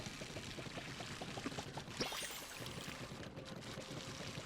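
Watering a plant in the Palia game: a soft, continuous trickle of poured water with light splashing, faint and close, running steadily for several seconds.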